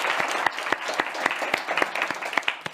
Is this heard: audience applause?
yes